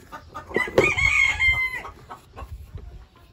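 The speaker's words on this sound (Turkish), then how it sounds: "Bir de gıdaklıyor utanma lan." A hen clucks and squawks up close in a short burst of several calls, followed by softer scratching and rustling as the birds feed.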